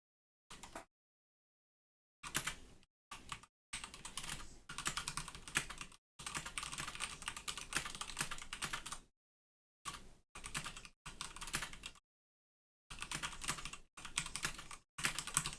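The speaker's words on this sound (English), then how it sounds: "I'm just going to type back to Nikhail" Typing on a computer keyboard, close and clear, in irregular bursts of rapid key clicks separated by silent pauses.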